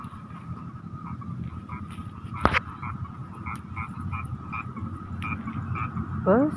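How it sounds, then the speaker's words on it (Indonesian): Frogs croak repeatedly in short pulses around a flowering plant patch, a fairly faint chorus over a low outdoor hum, with one sharp knock partway through and a rising chirp near the end. "Suara kodok."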